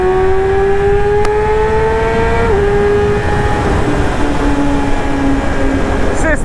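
Yamaha R6 motorcycle downshifting and then accelerating in traffic, a loud engine whine that drops in pitch at a gear change and then climbs steadily, with wind rush throughout.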